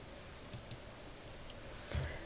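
A few faint, quick mouse clicks while a Micro Niche Finder setup wizard is clicked through on a Windows computer, separated by quiet pauses and ending with a soft low thump.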